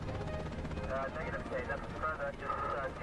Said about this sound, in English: he spawns in the helicopter.